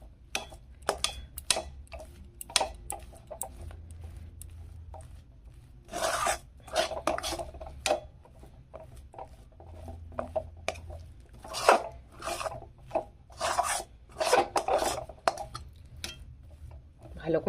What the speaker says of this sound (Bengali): এটা এইভাবে আমি নেড়ে চেড়ে ডোটা একদম শুকিয়ে নেব।